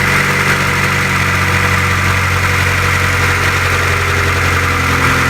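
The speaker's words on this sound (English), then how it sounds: "Let her idle a little bit. Do her thing. Sounds a little rough" A 1996 Acura Integra engine idles just after a head gasket replacement, a steady, loud, slightly rough hum with constant low vibration running for the whole stretch, no voices.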